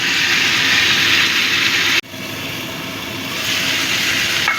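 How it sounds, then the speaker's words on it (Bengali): Potato and cauliflower fry in oil with spices for a Bengali curry, giving a continuous bright sizzle. The sizzle is broken by a sudden short drop, then rises again and swells slightly toward the end. "মশলার সাথে ভালো মতো কষে গেছে"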